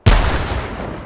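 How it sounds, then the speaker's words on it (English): A cannon fires once in the virtual reality shooting game H3VR, a sudden loud boom that hits hard and then rumbles away over about a second, heard alone. "because we don't want to be behind the cannon when it fires."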